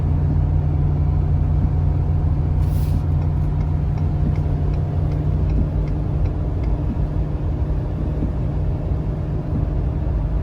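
A 2019 Ford F-450 Limited pickup towing a 34,000 lb load up a hill in British Columbia, its engine droning low and steady throughout with continuous road rumble.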